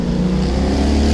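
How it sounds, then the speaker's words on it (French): A motorcycle roars past close by on a street, a loud, steady engine drone with no talking over it. "ta gueule la moto."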